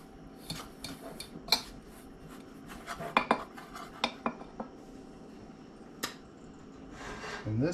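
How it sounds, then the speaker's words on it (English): Egg for a beer batter for fried smelt being whisked in a bowl, heard as irregular clinks and scrapes of the whisk against the bowl, close and moderately quiet. "mix it up as good as possible in here. Maybe there's something better to do it with than a whisk."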